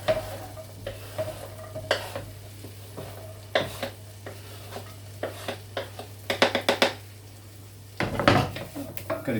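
Sofrito sizzles in a pan without added olive oil for a Bolognese, a steady soft frying hiss broken by a series of scraping, clattering strokes as it is stirred around.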